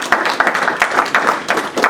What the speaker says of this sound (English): round of applause for the guys, please.